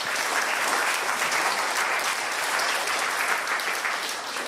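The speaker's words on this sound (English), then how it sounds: "Let's give a clap to the 17 years." A church congregation at a Baptist worship service in Sevenoaks, Kent, claps continuously at an even, dense level throughout, a full room of applause with no voices standing out.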